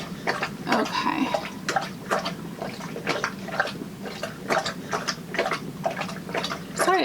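A pet cat on medicine laps water from a bowl, giving a quick, rhythmic run of close wet licks and drips that carries on steadily through the whole stretch.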